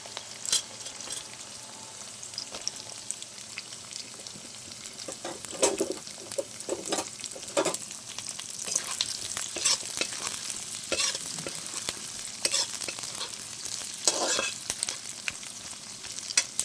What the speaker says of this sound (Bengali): পেঁয়াজটা দিয়ে আমি ভালো করে নেড়ে চেড়ে নিয়ে